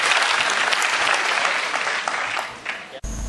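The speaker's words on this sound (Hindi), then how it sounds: "जोरदार तालियां" Loud audience applause at a Hindi kavi sammelan poetry gathering in Pantnagar, a dense continuous roar of clapping that holds steady and then stops abruptly.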